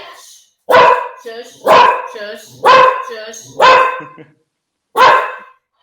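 A pet dog barks five times indoors in sharp, evenly spaced bursts, loud and near, while a person briefly hushes it.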